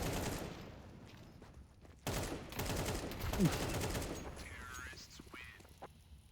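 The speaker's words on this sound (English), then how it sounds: "6 shots by Dodo" Gunfire in a Counter-Strike match, rapid automatic bursts crackling under game sounds and faint talk, with a sharp louder volley midway before fading.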